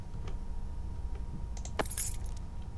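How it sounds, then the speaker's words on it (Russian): In the horror video game Layers of Fear, a key is picked up with a brief metallic jingle over a low, steady ambient drone, clear and close, with no talking. "Необходимый нам ключ."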